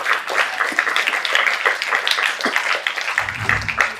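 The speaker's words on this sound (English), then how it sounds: "Please have a big round of applause." An audience at an education conference claps after a student performing-arts act, a modest, uneven spatter of hand claps with a brief low murmur near the end.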